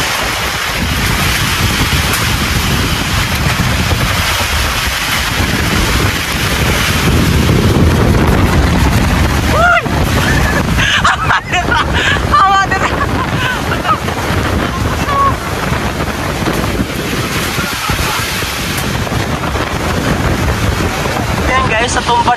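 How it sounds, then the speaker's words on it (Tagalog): A very strong windstorm at Lake Sebu roars as constant heavy gusts buffet the microphone, with rushing, surging noise and scattered rattles and knocks running through it for the whole stretch. "Sobrang lakas ng hangin."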